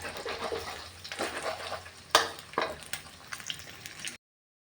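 Eggs stir-fry with naem, Thai fermented pork, for fried rice: a soft sizzle broken by a few sharp scrapes and knocks of a spatula against the pan, then cut off abruptly.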